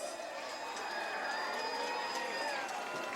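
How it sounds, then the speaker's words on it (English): Spectators lining a July 4th town parade in Natick cheer and applaud in a continuous, moderately distant crowd roar, with whistles and shouts threaded through and a public-address voice faintly present. "give them a big applause!"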